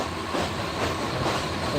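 Aboard the Bijoy Express passenger train while it runs, a steady low rumble of wheels and carriage noise carries on without a break, with no talk.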